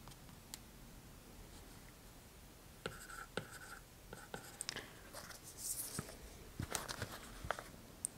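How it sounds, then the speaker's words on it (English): Pen writing notes on paper during a bespoke groom shoe fitting, close and quiet scratching strokes that grow busier halfway through, with soft whispery sounds. "I'm just going to write this down."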